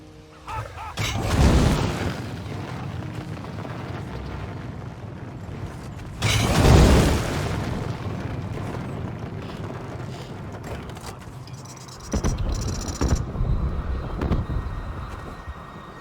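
Heavy siege engines and explosions boom during a castle siege in The Elder Scrolls Online, set in Wrothgar, with two big deep blasts a few seconds apart over a steady battle rumble and a further burst near the end.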